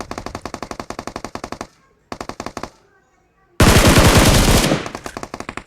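Automatic gunfire in a mobile shooter video game rattles in rapid close bursts, broken by short silences, then a louder sustained blast of fire near the end.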